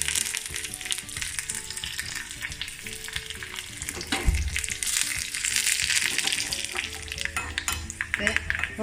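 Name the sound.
tempering mustard seeds, garlic, red chili, curry leaves in oil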